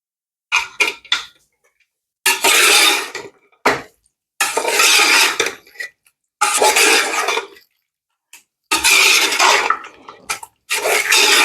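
A pot of chicken dum biryani rice being mixed, heard as loud bursts of gritty scraping and stirring in several separate strokes, broken by short pauses, with no talk.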